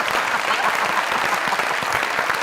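A studio audience at a comedy show bursts into loud, sustained applause, dense, even clapping from many hands throughout with no break.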